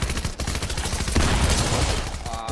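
Dense, loud video game gunfire crackles without pause, a fusillade of overlapping shots with automatic bursts and no talk.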